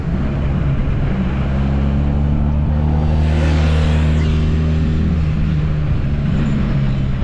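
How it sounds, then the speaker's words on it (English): Motorcycle riding close behind a moving vehicle on a road outing, a steady engine drone with tonal hum continuing throughout, rising slightly in the middle as it draws nearer, with no talking. "We got a motorcycle behind us."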